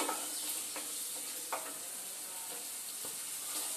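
Hot oil sizzling in a pan on a gas stove while chicken khichuri is being cooked, a steady close hiss broken by a few soft stirring clicks and taps, with no talking.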